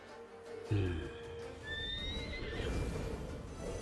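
A horse in a strategy video game whinnies loudly after being struck, a rising, wavering neigh that follows a sharp impact and runs over a noisy game background.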